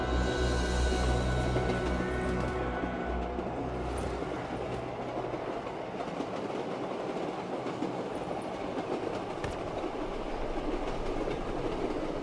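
Train ride in the Call of Duty Black Ops 3 Zombies game: a steady, loud rolling rumble with rhythmic clickety-clack of wheels on rails, continuous throughout with no talk.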